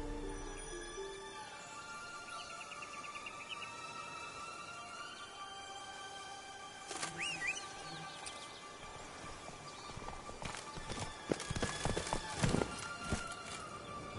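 Roach the horse from The Witcher 3 trots with rhythmic hoof clip-clops, fairly faint at first and growing busier and louder toward the end, with a brief whinny-like tone mixed into the game soundscape.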